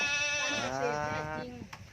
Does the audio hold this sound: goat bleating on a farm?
yes